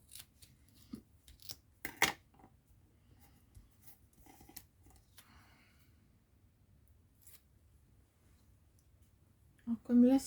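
Scissors snip through thin paper while a scrapbooking card is being made, giving a few sharp, close, isolated cuts and clicks in a quiet room with soft handling noises between them.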